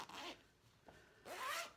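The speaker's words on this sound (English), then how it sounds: "so you have this big zipper" A large zipper on a fabric project bag with a built-in handle is pulled open in two quick, close rasping strokes, with a short pause between them.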